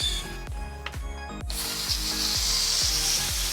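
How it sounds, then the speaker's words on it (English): Garden hose switched on after a repair with new clamps, a sudden broadband hiss and spray of running water cutting in midway and continuing steadily, close by, over a faint rhythmic thumping in the background. "we'll go turn on the hose, see if there are still any leaks"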